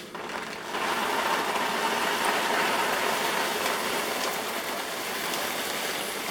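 Dehydrated food poured from a container into a storage jar, a steady dry rattling rush lasting several seconds at close range, starting abruptly and continuing evenly.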